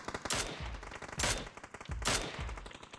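Three sharp, evenly spaced Mini-14 rifle shots ring out in PUBG while firing through a 3x scope at a stationary target. Each report is loud and close, about a second apart, with no one talking.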